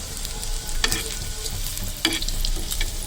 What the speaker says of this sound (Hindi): तो इसे मैं ज़्यादा फ्राई नहीं करूँगी, हल्का सा फ्राई करूँगी इस तरीके से।